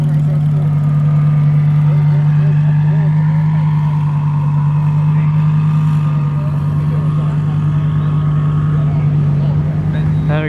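A Lamborghini Huracan Performante engine idles at a car meet with a steady, deep, loud rumble, unbroken throughout, with faint voices underneath.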